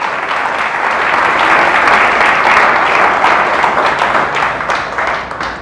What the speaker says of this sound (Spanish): el aplauso a nuestro Dios